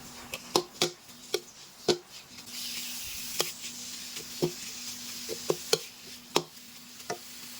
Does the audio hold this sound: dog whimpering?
no